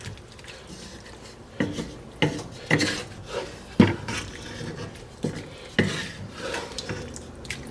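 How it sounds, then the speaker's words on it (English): A spoon or spatula knocks against a pan in a series of regular clinks while tofu is gently stirred into ground pork and sauce, with quieter scraping and moist shuffling between the strikes. "We're going to very, very gently mix the tofu with ground pork and the sauce."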